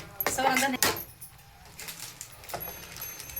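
A spoon clatters and scrapes against a pan as masala with onion, garlic, coconut and oil is roasted over a wood-fired stove; two loud bursts of clanking come first, then quieter intermittent stirring.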